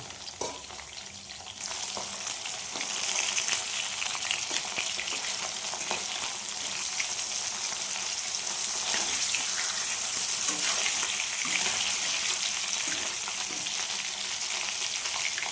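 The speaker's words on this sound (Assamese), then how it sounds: "মাগুৰ মাছ এতিয়া মই ভাজি আছোঁ।" Walking catfish sizzles steadily in hot oil, a loud, close, continuous crackling hiss with occasional pops, and no voices.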